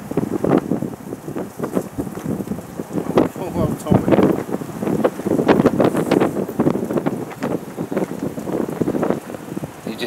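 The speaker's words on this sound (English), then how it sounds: "You just heard the wind there just all of a sudden increase." Storm wind buffets the microphone outdoors at a barbecue, roaring in uneven gusts with rain-like crackle that swell stronger through the middle, loud and close.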